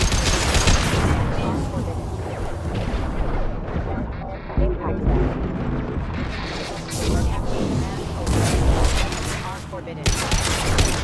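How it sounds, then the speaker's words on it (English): Dense gunfire and explosive bursts from the video game Mass Effect 2, loud and continuous throughout, with heavy booms layered under speaking voices. "Taking fire."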